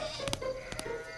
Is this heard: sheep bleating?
yes